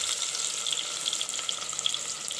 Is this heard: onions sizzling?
yes